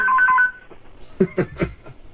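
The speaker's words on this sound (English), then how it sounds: "That's a special ring they have." A telephone gives a special electronic ring, a short run of bright warbling tones at the start, followed by a few soft, low thumps and murmurs.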